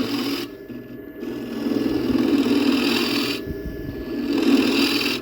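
Steady scraping hiss of a cheap high-speed steel scraper with a small radius cutting the foot of a Silky Oak bowl on a wood lathe, continuous and fairly loud with a low motor hum beneath, swelling in two broad passes.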